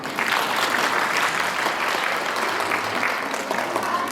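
Audience applause at a school celebration marking an alphabet and literacy festival, steady and dense clapping from a crowd that holds level throughout without a break.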